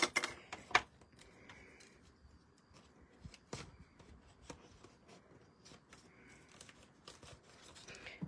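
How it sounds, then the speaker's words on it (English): Scissors snip through card paper while a folded greeting card is made, a few quick crisp cuts at the start followed by scattered lighter snips and paper handling close by. "I will just use my scissors."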